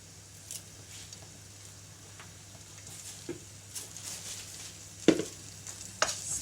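Curry leaves fry and sizzle in a pan with a soft, steady crackle, broken by a few sharper pops and stirring clinks toward the end.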